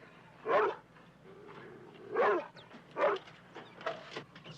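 A Doberman dog in a 1970s film scene gives three loud, separate barks close by, followed by a few softer yips and whimpers, with no talk over it.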